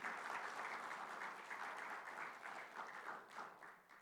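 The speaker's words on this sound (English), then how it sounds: "A big round of applause for late Prabhakar SJB Rana" Audience applause at a memorial lecture, a steady, even wash of many hands clapping for about four seconds, moderately distant and tapering slightly at the end.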